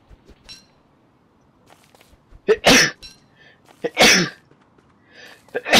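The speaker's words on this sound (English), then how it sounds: "I have to sneeze." A person sneezes repeatedly up close, in at least three sharp, loud bursts separated by quiet pauses and faint breathing, in a small indoor setting.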